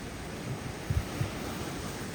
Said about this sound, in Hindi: बहुत तेज लहरें